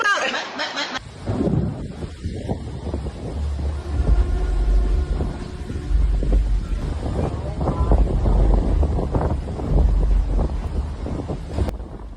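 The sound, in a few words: tornado wind tearing through urban area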